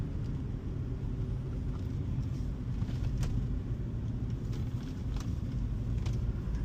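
A 2006 Mercedes C230 driving on city roads, its engine and tyre rumble forming a steady, close, continuous low drone with no voices.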